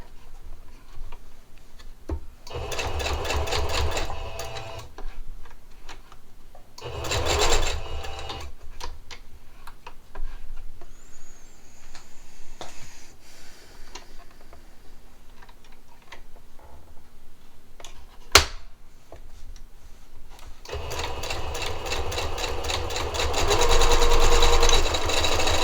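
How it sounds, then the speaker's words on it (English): A sewing machine stitches binding onto a quilted placemat in three bursts of rapid, even mechanical chatter, with quieter fabric handling and ticking between runs, and no talking. "Now just lift your presser foot, get that edge under, and then just come on through."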